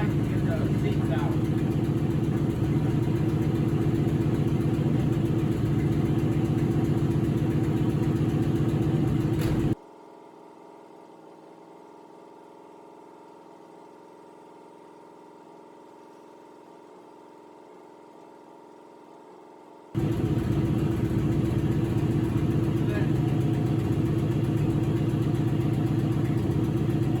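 A 1959 Ford Skyliner engine runs with no exhaust fitted, a loud, raw, clattering drone that cuts out for about ten seconds and then returns at full strength.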